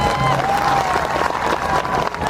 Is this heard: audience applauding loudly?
yes